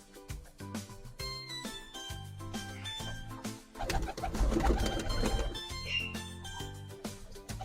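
Penned pigeons being fed coo softly in repeated throaty phrases, with a louder burst of fluttering and rustling near the middle before the cooing resumes.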